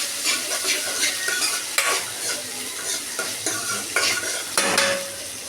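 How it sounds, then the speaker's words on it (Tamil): Onions, mustard seeds and curry leaves fry loudly in a pan and are stirred vigorously, with continuous crackling sizzle and repeated close scraping and metal clinks of the spoon; no talk. "கடுகு நல்லா பொரியுது வெங்காயத்தை கொட்டியாச்சு வெங்காயத்தை நல்லா மிக்ஸ் பண்ணிக்கலாம்"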